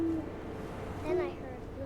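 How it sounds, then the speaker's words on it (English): Owl hoots in What Remains of Edith Finch, a few short tonal calls under game ambience with a voice speaking over parts of the clip. "And suddenly, I was an owl."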